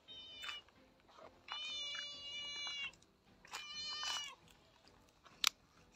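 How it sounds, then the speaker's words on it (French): A large cat meowing outdoors near a playground slide, several clear separate meows at a moderate distance with quiet gaps between them. "Oh, petit chat!"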